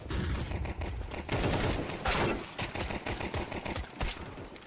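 USP pistol fire in a professional Counter-Strike match, a dense spray of sharp shots blending with other gunfire, fairly quiet and continuous throughout.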